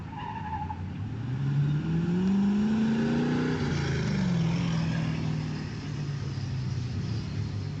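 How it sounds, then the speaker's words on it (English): A Street Class drift car at Redding Motorsports Park holds a long oversteer slide on the race track, its engine loud and sustained with a rising and falling pitch, and tire noise running underneath throughout. "Roy not far behind him, over angles to the oversteer as Jake finishes out his run."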